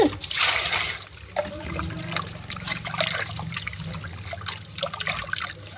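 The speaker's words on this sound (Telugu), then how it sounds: "అట్లా వాటర్ పోసేసి" Tap water trickles and splashes continuously while fish are rinsed clean, close and moderately loud, with uneven bursts as the stream hits the fish and bowl.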